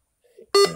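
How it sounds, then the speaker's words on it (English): A single sharp electronic beep sounds abruptly after near silence, loud and brief with a steady pitch. "You just heard this horrible beep."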